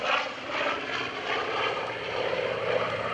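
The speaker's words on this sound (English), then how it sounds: "4-point hesitation roll by Dan McCue in the Corsair" A Goodyear-built F4U Corsair propeller fighter rolls through a four-point hesitation roll at an airshow, its engine a loud, steady roaring drone with slight swells and no speech.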